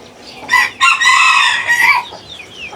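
An aseel rooster clucks and calls in a loud, close burst of several harsh, strained notes lasting about a second and a half, then a softer trailing tail, with no talking.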